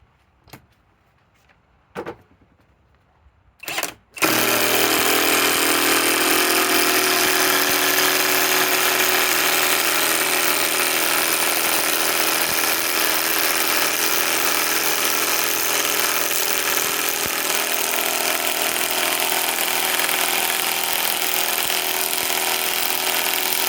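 A Harbor Freight Hercules Gen2 compact impact wrench and a Ryobi PSBIW25 compact half-inch-drive impact wrench on an 8 amp 21700 battery. A few brief clicks give way to a loud, continuous, close-up motor whir that runs steadily to the end.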